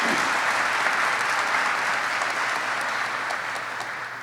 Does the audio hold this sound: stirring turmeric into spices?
no